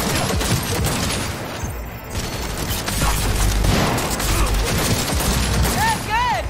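Dense gunfire in the video game Cyberpunk 2077, sustained rattling shots and impacts blended with combat noise and a voice, loud and continuous, with a couple of short electronic tones near the end.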